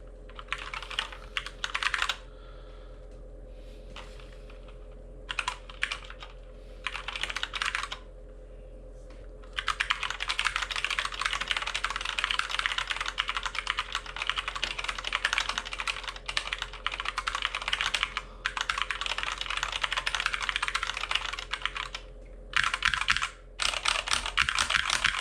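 Typing on ZSA Moonlander and Ergodox EZ split mechanical ergonomic keyboards: steady bursts of clicky keystrokes, close and fairly loud, broken by short pauses, with no talking.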